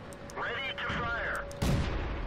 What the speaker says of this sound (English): Ready to fire.